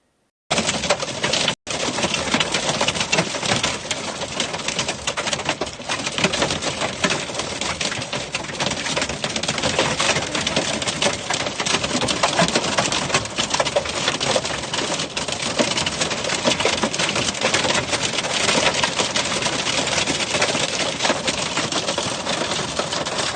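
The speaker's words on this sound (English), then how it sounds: "Super loud hail." Loud hail falling in Aurora near Denver, a dense continuous clatter of stones striking hard surfaces, unbroken and close after a brief cut near the start.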